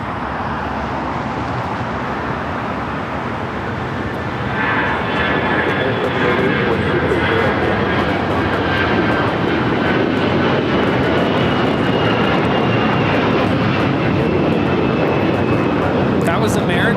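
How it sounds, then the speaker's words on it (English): An American Airlines Airbus A321 takes off with a loud, sustained jet roar that builds after the first few seconds and holds steady, a whining tone drifting across it, while people talk throughout. "That was American Airlines 2596 taking off to Charlotte on the A321"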